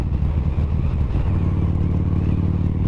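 A motorcycle engine fitted with a new exhaust pipe runs at a steady idle, a loud, close, low throbbing burble with a light mechanical clatter and no voices.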